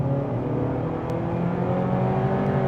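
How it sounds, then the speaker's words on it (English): A 2026 Honda CR-V EX-L with a CVT accelerates under throttle, giving a steady, continuous engine drone with rising tonal hum, heard from inside the cabin with no talk. "step on the throttle and the moment you start getting your power"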